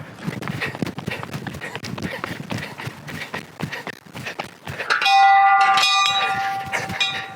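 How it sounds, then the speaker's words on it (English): A metal bell rung on a disc golf course rings out for about two seconds near the end, clear tones after a stretch of footsteps and outdoor movement. "I totally forgot there was a bell to ring."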